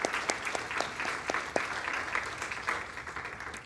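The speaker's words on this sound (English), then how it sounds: "If we could just give those people a round of applause" A church congregation applauds during a Sunday service, a short round of moderately loud clapping in which individual sharp claps stand out, with no talking over it.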